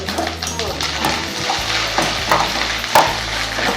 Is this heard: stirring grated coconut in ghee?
yes